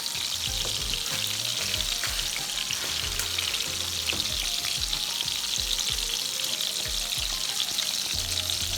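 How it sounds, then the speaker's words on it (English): Spaghetti cooks in a pot of water and gets stirred with a spatula, a steady close bubbling sizzle with soft scraping stir sounds scattered through it, no talk. "I just take a spatula and I'm mixing it because I want everything to go down in the water so they can cook"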